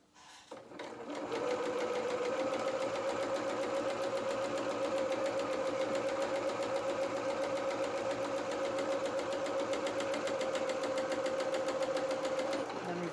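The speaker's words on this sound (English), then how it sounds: "I'm sewing with 1/4 inch seam allowance. So a few stitches forward, a few stitches back" Sewing machine running steadily as it stitches a doll jacket seam with a quarter-inch allowance, a close mechanical whir that starts after a short pause, holds for about eleven seconds and stops.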